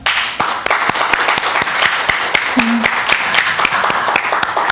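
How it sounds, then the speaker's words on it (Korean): Church congregation at a Sunday worship service applauding: steady, brisk clapping from many hands, fairly close and continuous throughout, with a brief voice underneath. "우리 박수 한번 할까요?"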